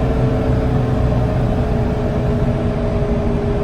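A Cummins diesel engine in a Ford truck revs up to 3,500 RPM on a downshift while driving, with the wastegate left unplugged. A loud, steady, dense drone fills the cab with no voices.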